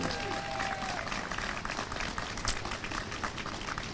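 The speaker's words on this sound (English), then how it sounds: "let us applaud them all" An audience applauds at a General Lafayette commemoration, a steady wash of many hands clapping at a constant level, with voices mixed in underneath.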